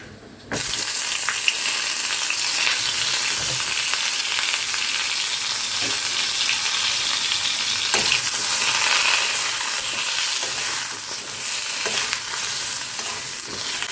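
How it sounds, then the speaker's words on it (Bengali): Pointed gourd fries in a little oil, making a loud continuous sizzle close up, while a utensil stirs and scrapes the pan now and then. "অল্প তেলে ভাজছি তো, যে কারণে টাইম লাগছে।"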